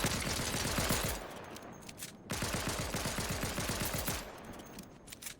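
Sniper and rapid gunfire in Fortnite come in two dense bursts of sharp cracks, loud and close, with a brief gap between them and a few quieter shots trailing off at the end.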